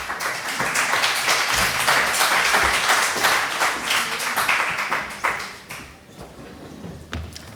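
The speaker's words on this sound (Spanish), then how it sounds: "Un aplauso para todos." A panel-event audience claps together in sustained, dense applause that fills the room, then thins out and fades toward the end.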